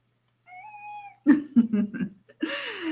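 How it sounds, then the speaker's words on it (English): A pet cat gives a soft drawn-out meow, then a run of short chirping meows and a longer yowl, close and clear in a quiet room. "And this is Bugera, the kitty cat."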